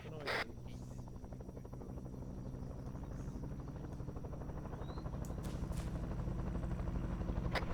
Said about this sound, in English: Aircraft overhead.